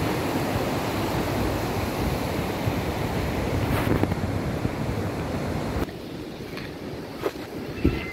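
Water rushing along a river at Santa María de Soyúa on a morning outdoors, a steady broadband wash that fills the whole stretch, easing slightly toward the end with a few small knocks and no talk.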